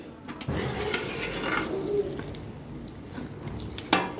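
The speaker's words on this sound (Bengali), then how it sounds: "এখন আমি দিয়ে দেবো আর একটু গোলাপ জল" Rose water is poured into a large pot of biryani, giving a steady, soft liquid hiss and sizzle throughout, with faint clinks and a brief sharper sound near the end.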